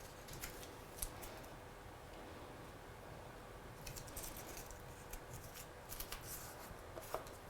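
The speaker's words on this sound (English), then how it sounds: "So I'm just going to cut this out on here." Scissors cut out a stamped paper heart in a quiet, continuous run of soft snipping and rustling paper, with a few slightly sharper clicks. No talking.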